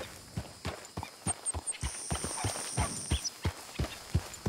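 Horse hooves clip-clopping in the video game Red Dead Redemption 2, a steady walking rhythm of distinct hoofbeats, fairly close and moderately quiet, with faint high tones in the background and no talk.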